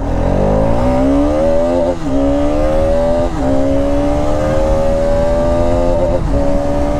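A Bajaj Pulsar RS 200 motorcycle engine revs hard and accelerates, loud and close, climbing through the gears with brief dips at each shift and rising again, without any talk.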